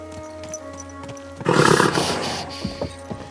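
A sudden burst of hooves and a horse's snort cuts in over a steady musical background in Kingdom Come: Deliverance II, then settles into lighter scattered clops.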